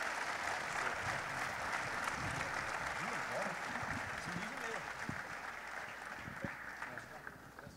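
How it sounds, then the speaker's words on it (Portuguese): Congregation applauding at a church convention session, a sustained broad clapping wash with a few voices and cheers mixed in, steady and fairly loud before easing slightly toward the end. "Vamos recebê-lo com alegria, uma forte salva de palmas"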